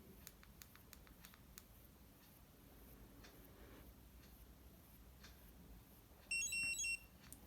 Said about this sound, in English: I will have to press and hold for the 5th time till we hear the beep